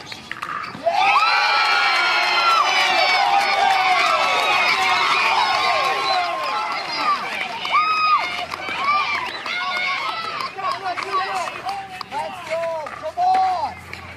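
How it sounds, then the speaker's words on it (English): A large crowd at a professional pickleball match roars and cheers loudly and continuously, with shouts and whoops fading into scattered yells. "Crowd roar, that means Callie or Allyce scored a point."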